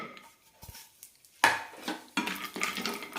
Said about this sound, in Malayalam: പാനിലേക്ക് ഒരു ടീസ്പൂൺ നെയ്യ് ഒഴിച്ചിട്ടുണ്ട് ഇനി ഇതിലേക്ക് കുറച്ച് നട്ട്സ് ഇടാം